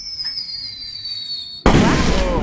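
A high whistling tone gives way to a sudden loud burst of crackling fireworks that keeps fizzing and popping, close and dense, in the video game The Quarry.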